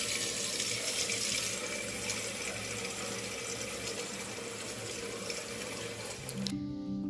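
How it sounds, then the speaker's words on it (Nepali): Cold tap water runs steadily into a pot, a continuous broad rushing splash with no speech, cutting off near the end. "सबैभन्दा पहिला एउटा भाँडामा चिसो पानी लियौं।"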